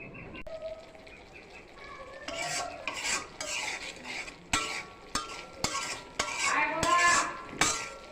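A utensil stirs spiced masala with boiled potatoes in a frying pan, giving repeated clinks and scrapes against the metal over a soft sizzle, heard close up.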